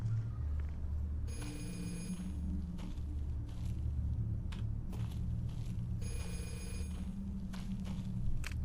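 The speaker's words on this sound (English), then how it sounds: "Where the hell is there a phone?" A telephone rings twice in the horror video game Cursed Digicam, two long bursts of bright trilling bell a few seconds apart, heard over a low droning ambient rumble.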